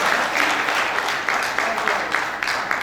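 An audience at a business success celebration event applauds a recognized leadership achiever, loud full-room clapping with rhythmic pulses and a few stronger accents, a voice faintly mixed in underneath.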